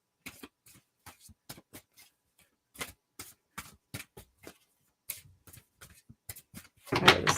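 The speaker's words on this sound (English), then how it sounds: "That technically was a sloppy shuffle" Tarot cards being shuffled during a live reading, a series of close, crisp riffling and tapping bursts in an uneven rhythm, ending in a louder, denser rush of cards, with no voices over it.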